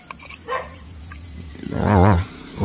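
A dog barks on a rural farm outing: a loud, close bark follows some quieter background sounds, with people talking around it.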